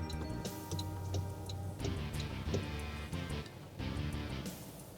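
Hazard lights tick steadily inside a Toyota Sienta hybrid G, a 2025 MXPL10G, with an even, close clicking pulse over a low cabin hum.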